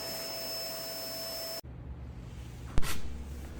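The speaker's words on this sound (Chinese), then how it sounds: "首先，我们要拿吸尘器把这个空隙中间的灰尘和一些小渣子给吸出来" Vacuum cleaner sucking dust and small debris from a gap in a laminate floor, a steady loud whine whose pitch changes abruptly as the nozzle meets the gap, followed by a brief sharp knock.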